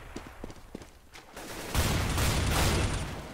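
Gunfire in Counter-Strike on the Overpass map as a player shoots a teammate: a few sharp separate shots at first, then a dense loud burst of rapid firing that keeps going to the end.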